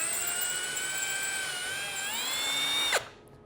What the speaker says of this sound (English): I just want to make sure that my drill bit is going straight into that hole, and I can just let the hole guide me